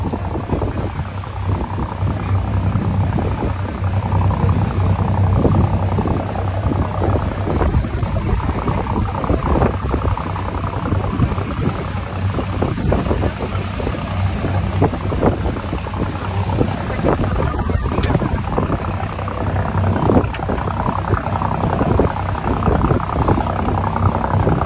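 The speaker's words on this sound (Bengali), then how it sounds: "নৌকাতে ঘোরার মজাই আলাদা" A boat ride on a river, with a steady broadband rush of wind buffeting the microphone and water and motor-like noise running continuously and fairly loudly throughout, with no clear speech.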